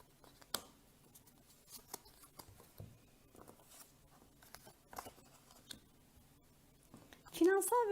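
Tarot cards are shuffled close by in scattered soft taps and slides, quiet and irregular, with a voice breaking in near the end.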